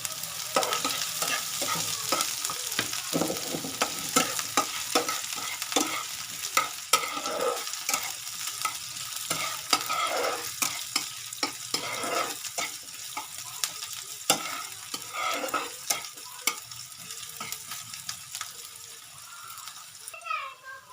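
Chopped onions and chillies fry and get stirred in a pan while making masala dosa. The sizzle runs steadily throughout, with scraping of the spoon against the pan.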